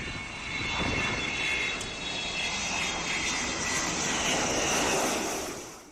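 An Avro Vulcan bomber flies past with a broad, steady jet roar that swells slightly and fades at the end, with no voices over it.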